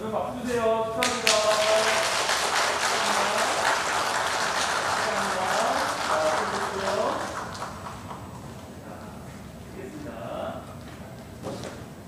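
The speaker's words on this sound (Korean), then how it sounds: "박수 주세요. 축하합니다." A church congregation at a Korean Sunday worship service claps in a dense burst of applause lasting several seconds before it thins out, while a voice and some tonal sounds carry on above it.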